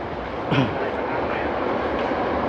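An Airport Rail Link train in Bangkok rushes past nearby with a steady, loud roar of wheels on track, briefly swelling early on.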